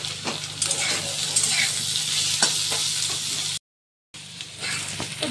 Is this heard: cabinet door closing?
no